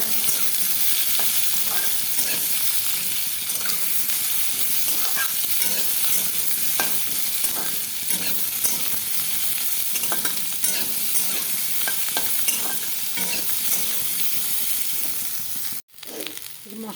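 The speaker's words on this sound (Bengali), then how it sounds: "মশলাটা ভাজা ভাজা হচ্ছে" Spices and potatoes for aloo dum fry in hot oil with a constant close sizzle while a spoon stirs and scrapes the pan, a brief dip near the end, no talk.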